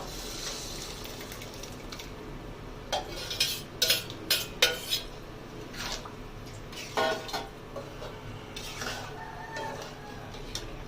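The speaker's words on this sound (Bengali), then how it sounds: "তো এই সময় আমি দিয়ে দেবো যে ডালটা সিদ্ধ করে রেখেছিলাম, সেই ডালটা দিয়ে দেবো।" Boiled dal being added to a papaya curry in a pan, heard as a quick series of metallic scrapes and soft wet plops from a spoon and bowl, fairly close and quiet, with no talking.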